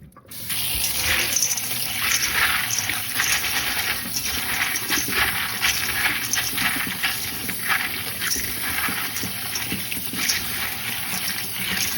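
Running cold tap water splashes steadily into a bowl of peas throughout, a continuous close rushing and gurgling of rinsing with no talk.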